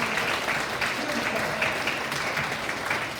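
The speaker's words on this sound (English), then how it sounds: "let's give another round of applause" A church congregation applauds in a dense, even wash of clapping that holds steady at moderate loudness throughout, with no pauses.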